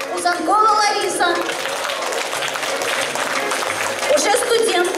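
Audience applause for puppet theatre performers during curtain-call introductions at a children's staging of Morozko, steady clapping filling the hall for several seconds with children's voices and chatter mixed in.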